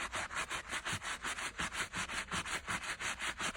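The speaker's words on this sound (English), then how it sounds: "I'm gonna do the same thing, just go down in a motion. I'm just gonna scrub." A soft brush scrubs a Nike shoe in steady back-and-forth strokes, a close, even rhythmic swishing of roughly three or four strokes per second.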